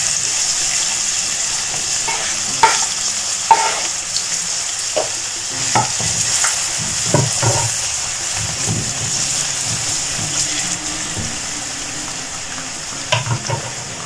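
Four spoonfuls of oil sizzle steadily in a frying pan as finely chopped vegetables are added and stirred, with occasional scraping and clinking of a utensil over the continuous frying hiss.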